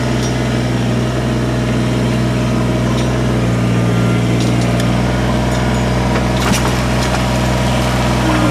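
A Kubota BX23s compact tractor engine runs continuously at a steady, loud, low rumble throughout, close by, with faint clanks over the top and no talking.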